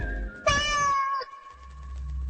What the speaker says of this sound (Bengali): হঠাৎ একটা বিড়াল ডাকলো